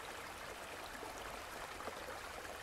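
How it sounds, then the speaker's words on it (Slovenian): Waterfall with water falling onto someone standing barefoot beneath it, a faint, steady broadband rush and splash with no pauses and no other sounds. "S bosimi nogami stopim pod slap."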